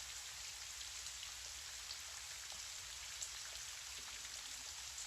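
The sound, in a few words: gentle rain falling outside a window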